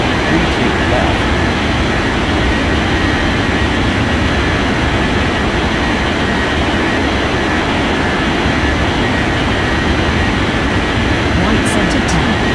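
A jet airliner in a flight simulation game rolls down runway 32 left for takeoff, a loud, steady, unbroken engine roar with no break across the whole stretch.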